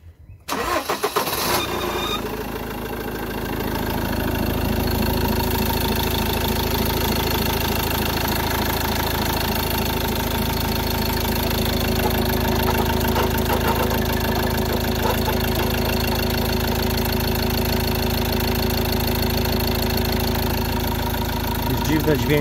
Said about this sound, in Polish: Odpal teraz silnik na 30 minut